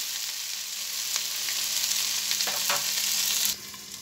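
Water spinach (kalmi greens) being stirred in a frying pan, giving a steady close sizzle with a few scraping stir strokes before the frying noise drops near the end.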